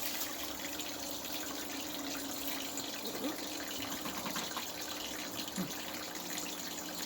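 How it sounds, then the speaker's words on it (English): Steady rushing of fast-flowing water, a continuous broadband wash with no distinct events and no voices. "the water was running really fast"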